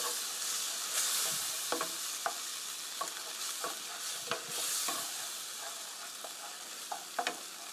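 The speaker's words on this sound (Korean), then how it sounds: "한 컵 넣어가면서 볶아주세요" Tofu cream sauce stir-fried in a pan as water is added, a steady sizzle with repeated spatula taps and scrapes at irregular intervals, close and moderately loud without speech.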